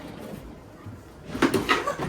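Drawers in a cluttered bedroom slide and knock open at close range, a few short wooden bumps and scrapes bunched near the end after quiet room tone.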